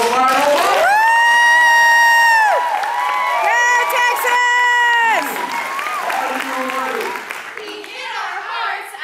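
Crowd cheering and shouting for a high school team at a competition finals event, with loud sustained whoops and screams over clapping, easing off midway before more scattered shouts.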